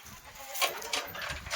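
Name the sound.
goats bleating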